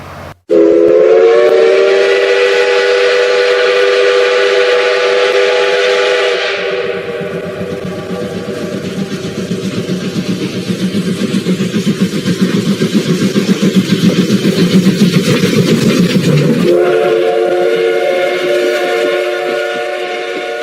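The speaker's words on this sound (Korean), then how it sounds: "이 천국 복음 열차가 에덴 동산에서 출발해서 첫 번째 역을 향해서 출발하겠습니다" A train departure sound effect: a loud, sustained steam whistle sounds, gives way to a rumbling chug of the moving train, then the whistle blows again.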